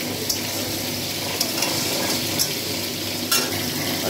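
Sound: fish heads and potato frying in a pan

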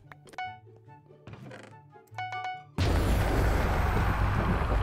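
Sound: explosion from being bombed in Minecraft Bedwars video game

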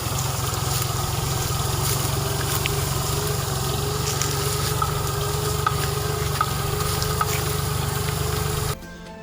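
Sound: tractor engine driving over standing soybean crop

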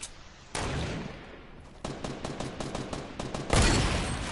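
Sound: gunfire in a video game

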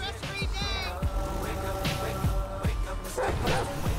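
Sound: dog barking in the video game GTA 5

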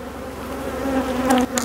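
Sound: honeybees buzzing in a full hive

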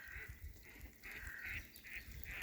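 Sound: ducks

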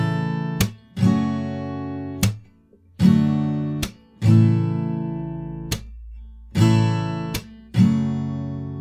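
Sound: guitar playing two measures of a chord rhythm

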